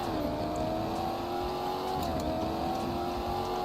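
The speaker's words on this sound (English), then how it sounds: "Let's rev it real quick. That is such a nice noise." A car engine in the Roblox game Greenville Wisconsin, a newer model, revving steadily with a smooth, sustained engine note and slight pitch shifts, loud and close with no talk over it.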